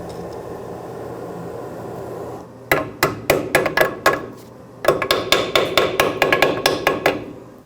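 Metal tapping as a new brake pad shim is seated on a 2009-2011 Ford F-150 rear brake: two bursts of sharp, close hammer-like taps, roughly six to eight strikes each in a quick steady rhythm, with no talk.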